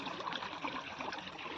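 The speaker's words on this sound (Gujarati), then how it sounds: "અત્યારે મોટર ચાલુ કરી છે પાણી" Steady rushing and trickling of water pumped by a farm motor in a village field, a continuous close wash of flow with no voices.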